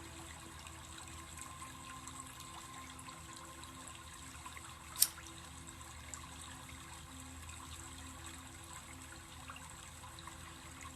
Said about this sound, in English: You like the water sounds.